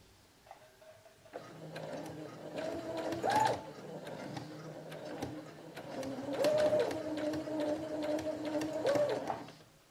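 A sewing machine stitches bias tape onto a dish towel, its motor whirring in close, uneven runs with small mechanical clicks and brief pitch rises, starting after a quiet moment; no one speaks.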